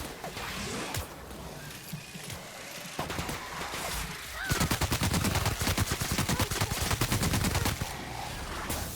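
Gunfire in The Outer Worlds video game: bursts of rapid automatic weapon shots, with a long sustained rattling volley in the second half, loud and close with game effects around it.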